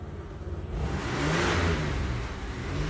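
A 1994 Isuzu Rodeo that runs poorly and lean revs up, its mid-pitched engine note swelling steadily and holding a loud, close drone for a few seconds with no talking.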